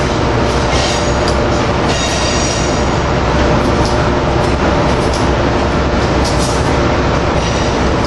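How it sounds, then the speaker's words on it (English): An Amtrak Keystone train led by cab car 9632 departs, a loud, continuous roar of rolling wagons with wheel squeal and rhythmic clatter, close by and steady throughout. "Cab car, I think this is 9632 leading the Keystone"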